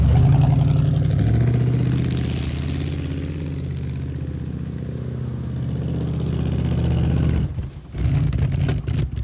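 An abandoned 1978 Camaro's engine runs out of gas, a loud close rumble that sags, sputters and nearly cuts out before catching again in rough, uneven bursts, with no one speaking.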